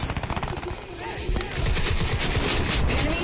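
Rapid automatic gunfire in the shooter video game Crysis 2, a fast rattling burst followed by a denser, louder barrage, close and continuous.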